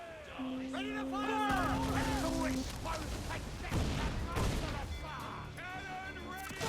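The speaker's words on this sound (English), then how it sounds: "Cannon ready! Fire!" Ship cannons in Assassin's Creed IV Black Flag fire in a ragged volley of heavy booms amid battle noise and music, while voices shout over the gunfire.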